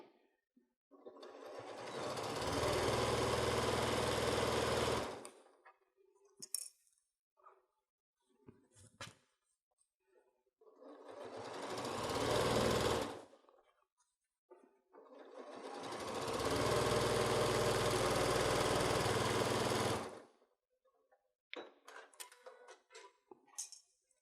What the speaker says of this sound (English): you're going to sew 1/4 inch all the way across